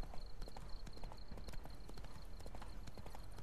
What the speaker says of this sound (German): Wir reiten in den Sonnenuntergang.